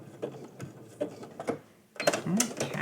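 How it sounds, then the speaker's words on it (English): A sewing machine stitches raw edge applique in short, quiet bursts of mechanical whirring and clicking, with a louder, busier burst at the end and a voice talking throughout. "And I am at the last stitch."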